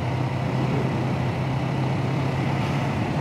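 Motorcycle engine on a mountain road in the Rysy area of Slovakia, a steady loud droning hum that holds throughout, close and continuous with no clear gear change audible.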